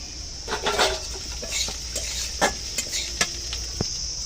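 Potatoes, onions and green chillies frying in a pan, a constant hiss of sizzling under scattered scraping stirs and light clinks of a utensil against the pan, close and fairly loud.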